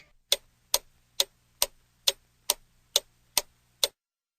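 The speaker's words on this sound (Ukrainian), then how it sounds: "цакає годинник." A clock ticking steadily, nine crisp, evenly spaced ticks about half a second apart, close and clear with a faint low hum beneath.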